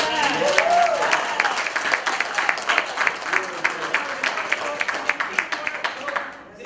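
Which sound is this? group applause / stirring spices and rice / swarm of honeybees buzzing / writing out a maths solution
group applause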